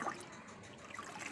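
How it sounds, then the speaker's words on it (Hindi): Water spilling and splattering onto an indoor floor, a brief, soft trickling splash that runs steadily for about a second with no voices. "नीचे क्यों बिखेर रहा है पानी को?"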